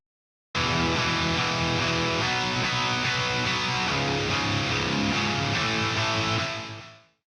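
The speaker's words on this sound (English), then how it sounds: "So Guitar 1 and Drop C sounds like this." A distorted electric guitar in drop C tuning with a chorus effect plays a dense, sustained part alone for several seconds, loud and even before fading out at the end.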